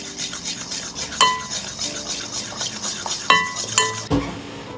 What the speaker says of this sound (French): Maintenant, on mélange.